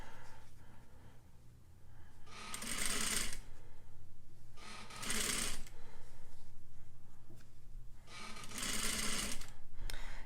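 Sewing machine stitching bias binding onto a fabric neckline, three steady motor bursts of a few seconds each with pauses between, close and clear over a low hum.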